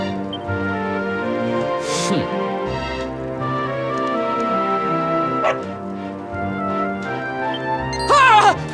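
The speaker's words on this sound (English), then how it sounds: "Not the dog! Anything but that!" Dogs bark and yip in the Dragon Quest XI video game, a few sharp bursts near the start and a louder cluster near the end over a continuous bed of background game music.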